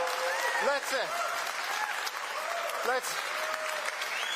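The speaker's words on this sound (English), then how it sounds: "Let's put it together. Let's applaud that." Sustained applause from a large audience at a vaccine pledging summit for Gavi in Amaravati, a steady dense clapping that fills the room throughout, with some cheering and voices mixed in.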